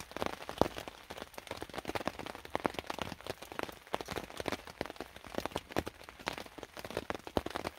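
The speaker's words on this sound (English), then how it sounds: "There's just nothing worse, just that cold rain." Cold rain falls around a bushcraft survival shelter in the woods, a dense, faint patter of drops ticking steadily on surfaces with no voices.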